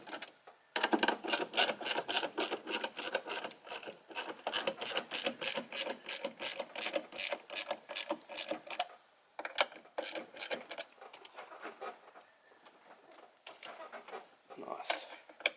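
A ratchet wrench tightens bolts on anodized billet parts fitted to an Isuzu 4JJ1 diesel engine, giving a long run of rapid, steady clicks, close and fairly faint, that stops and restarts in shorter bursts.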